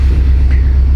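A blown Subaru STi engine idles on a dyno, a loud, deep, close rumble with an uneven pulsing beat from misfiring cylinders.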